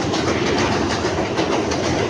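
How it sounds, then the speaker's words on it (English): A passing train rumbles steadily and loudly with a dense rolling clatter of wheels on rails throughout, close by and with no talk over it. "This train, man."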